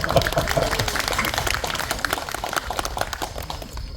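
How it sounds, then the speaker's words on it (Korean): Lecture audience at a literature festival awards ceremony applauding, a dense, continuous roar of many hands clapping throughout, strongest at the start and gradually thinning toward the end. "박수 한번 칩시다."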